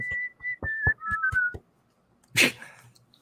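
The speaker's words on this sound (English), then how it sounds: "5 points to whoever can whistle that accurately" Someone whistles a short, bright tune of quick notes close by, followed by a brief burst of noise after a pause.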